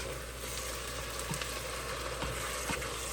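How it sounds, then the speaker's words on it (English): Peppers and onions sautéing with sausage in a pan, a steady, close, dense sizzle and crackle with a few faint clicks, no voices. "Just going to let these peppers and onions just saute along with my sausage."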